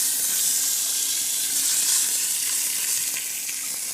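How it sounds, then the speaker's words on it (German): Chunks of food deep frying in very hot ordinary oil in a pan, a loud steady bright sizzle and hiss that runs unbroken and close, with no talk. "So wir frittieren den ganzen Stück."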